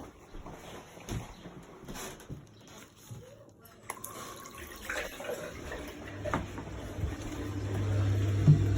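Hot water runs on demand from a Baxi Duotec boiler with a blocked plate heat exchanger, a faint hiss that builds into a steadier flow and hum toward the end, with low background noise.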